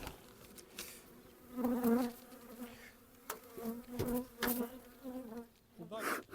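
Close, fluctuating buzzing of many honeybees at an open hive, swelling and fading, with occasional soft knocks and rustles.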